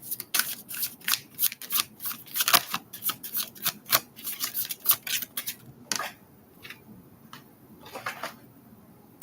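A deck of tarot cards being reshuffled by hand: a quick run of crisp riffling flicks and slaps, close and fairly loud, that thins out into a few scattered snaps near the end.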